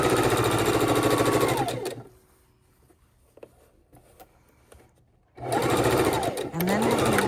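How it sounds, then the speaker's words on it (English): A sewing machine stitching leftover off-white fabric scraps together for a scrappy quilt, running loud and close in a steady whirring burst, stopping for a few quiet seconds with faint handling clicks, then starting up again. "I'm stitching all of my leftover off-white fabrics together, making sure right sides go together"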